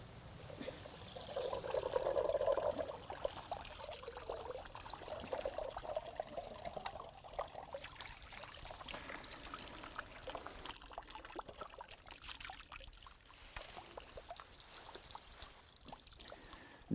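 Water pours and trickles off an old pond pump as it is lifted out of a garden pond. A stronger gush at the start eases into uneven dribbling and splashing that goes on for many seconds.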